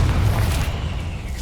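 A Confringo explosive spell goes off in Hogwarts Legacy, fighting spiders, as a single deep, loud boom whose low rumble rolls on and fades over a second and a half.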